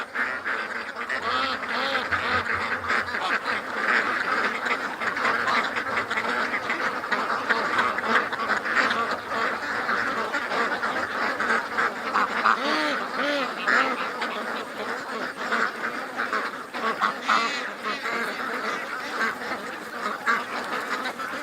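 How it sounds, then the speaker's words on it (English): A flock of ducks quacks loudly and frantically near a creek, with goose-like honks mixed in, a dense, continuous chorus of agitated calls that keeps up without a break. "the ducks get all freaked out"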